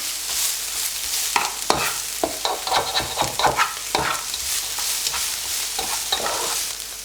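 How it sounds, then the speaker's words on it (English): Onions stirred in a frying pan while they soften and turn golden, a close continuous sizzle broken by repeated scraping strokes of the spoon, with no talk. "Let's do a bit of a mix of the onions."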